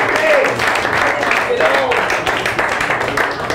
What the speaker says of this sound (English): Let's give some applause to the birthday dude here in the back.